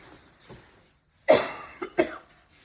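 A couple of harsh, close coughs, the second followed quickly by another, with quiet pauses around them and no speech.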